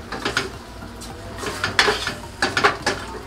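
Drumstick and tomato curry being stirred in a pan: a quick series of close scraping and clinking strokes of a spoon against the metal, in irregular bursts, with no talk.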